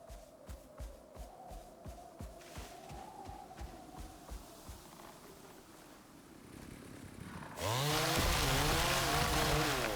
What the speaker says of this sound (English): Take out the chainsaw.